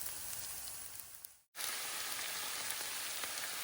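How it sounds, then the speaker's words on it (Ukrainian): Oyster mushrooms and onion fry in a pan with a steady, close, hissing sizzle that cuts out briefly partway through and then resumes. "Смажаться вже гливки з цибулькою"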